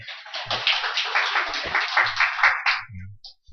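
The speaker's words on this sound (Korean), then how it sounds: "우리 박수로 환영합시다" A church congregation claps in welcome for a visitor from Hong Kong, a short burst of crisp hand claps with a few thuds, fading out at the end.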